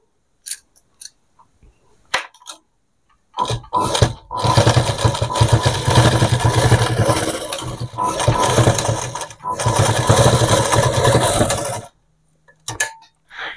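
A sewing machine stitches a long gown cut from nighty fabric, running steadily for about eight seconds with brief dips, framed by soft clicks and handling before and after.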